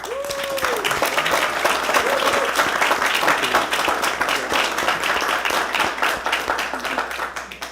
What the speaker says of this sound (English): let's give this Vietnam veteran a round of applause